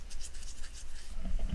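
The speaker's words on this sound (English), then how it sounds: "That's the sound of an itchy face." Fingers or nails scratch an itchy face up close, giving a soft, quiet rasping scratch with irregular strokes and no talking.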